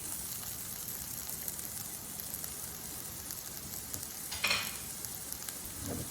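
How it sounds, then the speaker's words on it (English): Onions fry in a little canola oil for tacos, giving a steady, close sizzle and crackle with a brief louder scrape of stirring near the end. "So I'm going to put just a little bit of canola oil in here and get some onions cooking"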